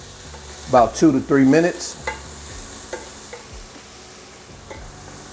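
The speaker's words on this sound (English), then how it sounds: "we're gonna go ahead and add our garlic along with our sun-dried tomatoes" Garlic and sun-dried tomatoes sizzle softly in a pan and are stirred now and then, a low steady hiss beneath a short stretch of talk.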